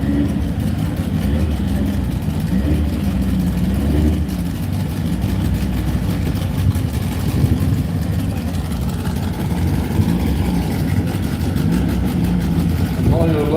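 Supercharged VW Bug race car engine at a drag strip shootout, a steady loud low rumble running throughout with slight revving, under continuous talk.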